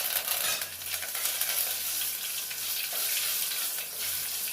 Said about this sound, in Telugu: ఇప్పుడు కరివేపాకు, ఎండుమిరపకాయ వేస్తున్నాను